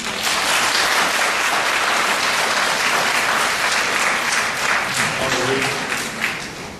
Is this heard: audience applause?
yes